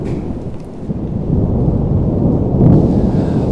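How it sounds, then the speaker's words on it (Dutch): Thunder rumbles loudly in a film about the 1917 Schalkwijk train crash, set on a hot day at Houten station, with rain hissing beneath a rolling roar that swells near the end, no voices. "De temperatuur was opgelopen tot 30 graden en er dreigde onweer."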